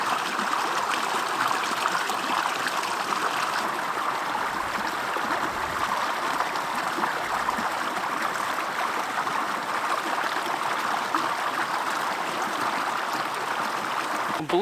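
Crater Creek in the High Sierra's Ansel Adams Wilderness rushes steadily over rocks, a dense, even wash of flowing water that holds unbroken throughout, close and fairly loud with no voices.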